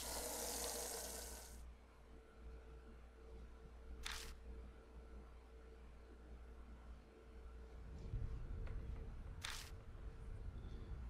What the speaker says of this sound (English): Alright, get a little water. Water the plants.